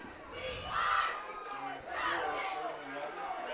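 A home crowd at a high school varsity football game cheers and yells in swelling bursts. The noise rises and falls over a few seconds, with nearby voices shouting and talking in the mix.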